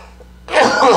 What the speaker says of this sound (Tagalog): Talaga hong inuubo tayo